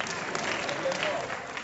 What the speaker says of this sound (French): Applaudissez pour mon grand-père.